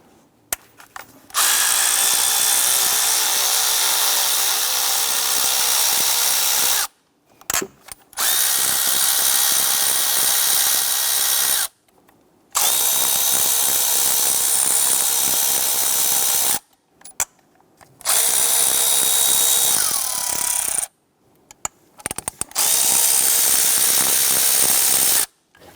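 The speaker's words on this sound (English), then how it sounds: "there are 5 E8 bolts here we want to loosen and remove." A power tool whirs loose five E8 bolts on the oil filter housing of a 3.6L Jeep Grand Cherokee engine, in loud, close bursts of several seconds each, separated by short silences.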